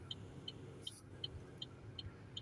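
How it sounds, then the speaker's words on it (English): A distant garbage truck gives off faint, evenly spaced high beeps over a low, steady rumble, quiet and far away. "Trash truck over yonder."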